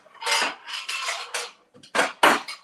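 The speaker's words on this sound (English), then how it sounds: "Let's put it in a dish in the microwave." A glass dish clatters and clinks in a home kitchen as squash is set into a microwave, several sharp bursts of handling with short pauses between.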